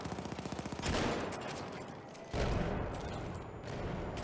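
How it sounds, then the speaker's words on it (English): Battlefield 1 multiplayer battle at Fort de Vaux: rapid machine-gun fire rattles at the start, then two heavy blasts roll out and decay, moderately loud with no voices. "See, this is the explosions."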